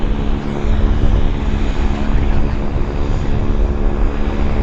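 Aircraft engines spooling up at Vancouver YVR airport, a steady loud roar with propeller drone that stays constant throughout, heard from the apron at close to medium distance with no talk.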